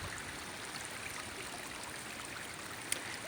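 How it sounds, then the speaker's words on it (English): Floodwater runs down a rain-soaked dirt road in a constant, broad rushing wash, moderately distant and unbroken, with one small sharp tick near the end. "You see the water pouring down"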